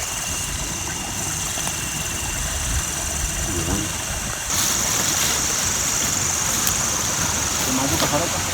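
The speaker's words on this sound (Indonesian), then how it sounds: "Motor." A motorboat engine runs with a steady, buzzing hum on a river outing in the forest, continuous throughout and growing slightly louder midway, with faint voices and outdoor noise mixed in.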